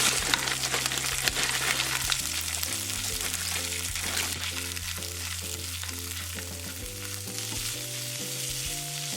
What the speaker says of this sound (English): I'm gonna add in some frozen corn and some frozen green beans.